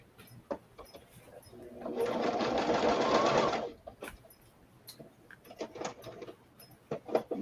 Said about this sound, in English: I'm going to sew these two together